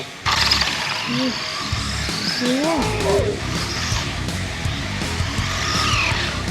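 A modified pickup truck fitted with racing gears revs hard and accelerates with loud, continuous engine roar and brief tire squeals, while voices talk over it.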